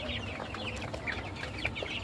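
Young farm-raised broiler chickens in a shed at dusk, a busy flock clucking and chirping continuously and fairly close, with no talking.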